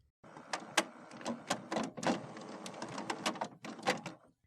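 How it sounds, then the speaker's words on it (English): An HP Officejet printer powering on, whirring and clunking as its mechanisms reset, with a series of sharp mechanical clicks and rattles over a steady motor hum, close and moderately loud. "Wait for the printer to turn on and stop making noise."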